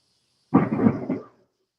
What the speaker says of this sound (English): Y'all might hear a little thunder and lightning in my background, baby, because this just what's going on.